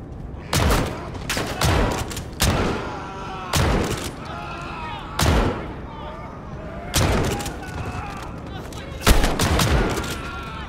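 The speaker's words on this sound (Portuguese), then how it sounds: "O bagulho atira e queima." Loud bursts of automatic gunfire in Call of Duty: Modern Warfare, about seven sharp volleys spaced a second or two apart, with a voice talking between them.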